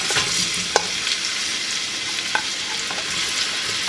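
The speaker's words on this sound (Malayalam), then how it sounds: "സബോള നമുക്ക് ചെറുതായിട്ടൊന്ന് വരട്ടിയെടുക്കാം" Sliced onions sizzle in oil inside a pressure cooker, a close, steady hissing crackle with a couple of faint scraping stirs along the way.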